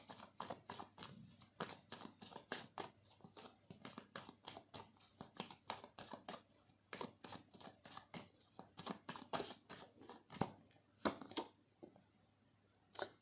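Tarot cards are shuffled repeatedly in quick, crisp riffling bursts with short pauses between them, close to the microphone and heard alone without any talking.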